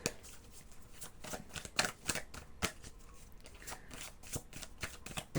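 Tarot cards being shuffled by hand close up, a rapid series of crisp riffling flutters and soft slaps in an irregular rhythm.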